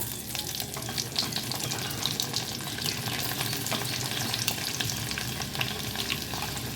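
Chopped garlic fries in hot oil for mango pickle, giving a loud, dense, continuous crackling sizzle throughout with no voices.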